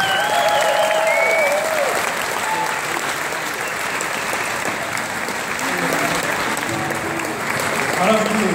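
A concert crowd claps for the band's flute player, a loud, steady wash of applause with a voice calling out over it at the start and singing or talk coming through faintly later.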